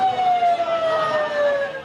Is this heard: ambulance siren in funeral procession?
yes